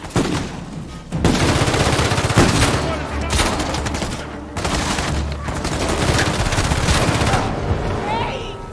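Rapid bursts of automatic gunfire in Uncharted 4, loud and sustained in two long volleys separated by a brief lull, with scattered single shots and impacts.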